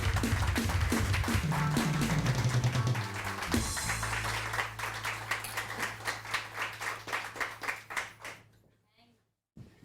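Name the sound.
studio audience applause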